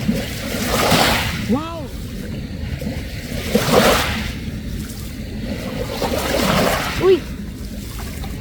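Ocean waves wash and surge onshore in slow swells, rising and falling every few seconds, while someone talks and exclaims over the surf.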